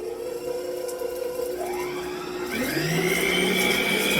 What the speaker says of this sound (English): turn it up to speed 10, mixing it very quickly